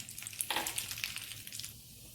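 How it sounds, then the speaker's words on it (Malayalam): Urad dal crackles and sizzles as it drops into hot vegetable oil, a brief, quiet, close spatter of bright popping that fades after a second or two. "ഇതിലേക്ക് ഒരു 3/4 ടേബിൾ സ്പൂൺ ഉഴുന്നിട്ട് കൊടുക്കാം."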